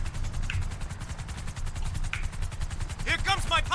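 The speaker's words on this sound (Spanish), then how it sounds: "Se escucha un helicóptero por aquí." A helicopter overhead in the video game GTA 5 gives a steady, rapid rotor thumping throughout, under faint game sounds and talk.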